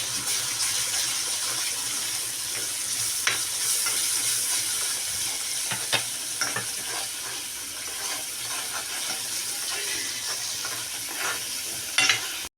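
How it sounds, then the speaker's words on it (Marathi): Roasted onion-coconut masala sautéing in a pan, a steady close sizzle and hiss throughout, with occasional light spatula taps near the end. "आपला मसालाही सुद्धा याच्यावर परतून झालेला आहे"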